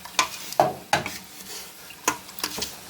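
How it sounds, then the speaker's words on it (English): A spoon stirs sugar into tart cherry juice for canning, giving irregular scraping and clinking strokes against the pot with brief sharp knocks, close and fairly loud and heard alone. "I have 3 cups of the tart cherry juice. I'm going to add that too. And mix it together really well."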